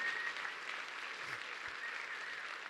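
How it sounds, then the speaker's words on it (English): Audience applause after a presentation on spacecraft, a steady wash of many hands clapping at moderate distance that fills the whole stretch with a faint low thump midway. "let's give them a big round of applause"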